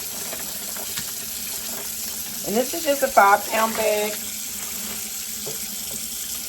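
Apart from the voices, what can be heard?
tap water running to rinse chitlins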